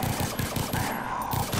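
Rapid automatic gunfire in the video game Far Cry 3 Blood Dragon, shooting at the running dead, a rhythmic burst of close shots over a steady background hum.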